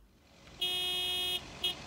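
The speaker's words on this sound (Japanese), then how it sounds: "OK、 クラクションも鳴らせる。" A car horn sounds in a mail delivery video game set in a rural lake town: one steady honk of almost a second, then a second short toot. Both are loud and clear, and no one speaks over them.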